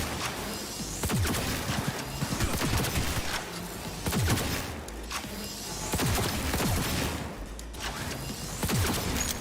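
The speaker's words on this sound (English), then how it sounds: "This rifle is tearing them apart." Rifle fire in the video game Cyberpunk 2077, dense repeated bursts of shots crackling throughout in a steady barrage, loud and close, with a few heavier impacts mixed in.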